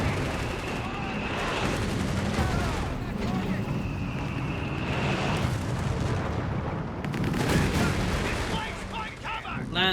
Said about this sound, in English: Getting some shots in, some sneaky shots